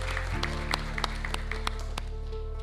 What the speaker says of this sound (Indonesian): Tepuk tangan untuk Pak Muh.